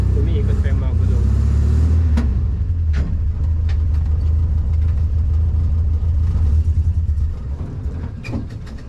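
A car engine revs hard and steadily with its wheels spinning, a loud, droning low roar held close throughout that eases slightly near the end, with a few sharp knocks and clicks.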